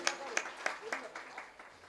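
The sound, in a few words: audience clapping loudly at kirtan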